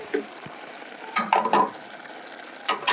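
Liver sizzling and frying in a pan for a stew, with intermittent stirring scrapes in short bursts over a steady low fry, nearby and alone without talk.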